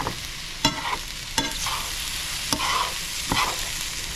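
Hotdogs fry in a pan with a constant loud sizzle, broken by four sharp clacks of a utensil stirring and knocking against the pan.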